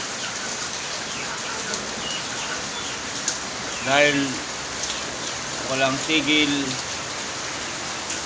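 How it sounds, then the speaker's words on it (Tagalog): Steady hiss of heavy rain pouring down throughout, with a couple of brief voices speaking over it midway. "sobrang lakas ng ulan"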